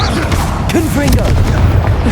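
Confringo explosive spell cast in Hogwarts Legacy, a loud rumbling boom with crashing impact noise, thick and sustained under a voice.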